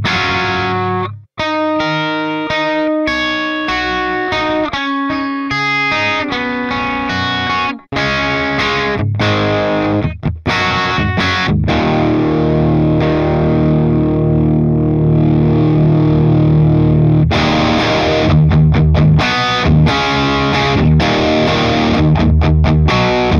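Heavily distorted electric guitar through channel 1 of an ENGL E656 Steve Morse signature 100-watt amp head, played loud and close as dense chugging riffs and sustained chords that ring out over about twenty seconds.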